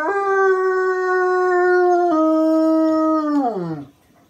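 A basset hound howls in one long, loud, close, sustained cry that steps slightly lower midway, then slides down and fades out at the end.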